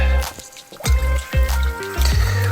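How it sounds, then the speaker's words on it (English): Limes and mixed citrus stirred in a pot for fresh cranberry sauce, giving wet squishing and dripping sounds with several distinct sloshing strokes, close and fairly loud, no talking. "And we're going to stir."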